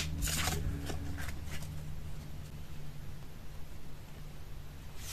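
A playing card slides into a paper gift-card pocket with a short dry papery scrape near the start, then faint rustling fades into quiet room hiss.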